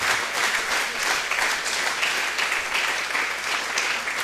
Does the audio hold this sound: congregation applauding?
yes